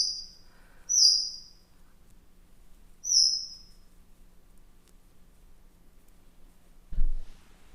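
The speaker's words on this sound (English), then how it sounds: "I have some noisy birds" Small indoor birds give two short bright chirping bursts about two seconds apart, fairly clear over a quiet room, followed by a low thump near the end.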